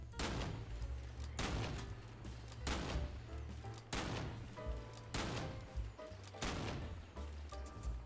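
Barrett M81 rifle in the video game Gorebox firing rapidly, about seven heavy booming shots at a steady rhythm, loud and close, each with a short ringing tail over a low background hum.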